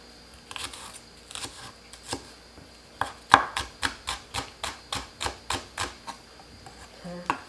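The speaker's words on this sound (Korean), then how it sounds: "두부는 깍둑으로 썰어 넣으시면 돼요" A knife chops tofu into cubes on a cutting board, a quick run of evenly spaced sharp knocks that speeds into a steady rhythm of about a dozen close, crisp taps.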